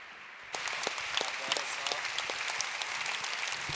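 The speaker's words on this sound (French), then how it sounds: "Je vous demande de l'applaudir," Audience applause at a gathering about forest guardians, welcoming a speaker named Benki: after a brief quiet moment, clapping from many hands breaks out and carries on as a steady, full patter.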